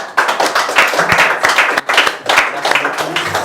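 Studio audience on the Débat Magazine talk show applauds steadily, a dense wash of claps that holds at an even level throughout with no pause.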